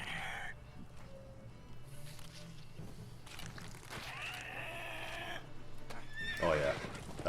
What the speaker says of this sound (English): Oh yeah, that horse arse slap.